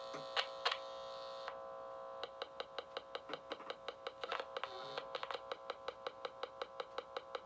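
A neon bulb circuit with a 0.27 capacitor across it gives off a steady train of sharp, evenly spaced ticking pulses over a faint mains hum, preceded by a few scattered clicks as the part is connected.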